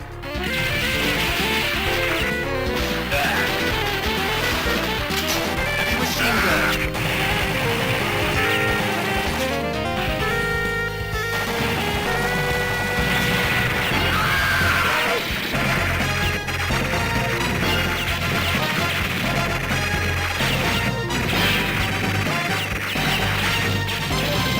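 Metal Slug, the Neo Geo run-and-gun arcade game played on PS4, blares a steady, dense mix of music, explosions and crashing hits throughout, loud and continuous with no talk.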